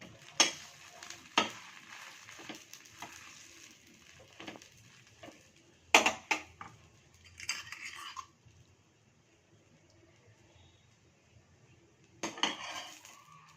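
Bread slices toasting in ghee in a pan on the stove, with quiet sizzling under sharp intermittent scrapes and clatters of a utensil against the pan, sporadic and close.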